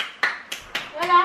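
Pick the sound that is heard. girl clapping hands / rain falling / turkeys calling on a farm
girl clapping hands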